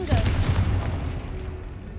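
A Confringo fire spell explodes in the Hogwarts Legacy video game, a loud booming blast with a rumbling, crackling tail that fades over two seconds; a voice speaks around it.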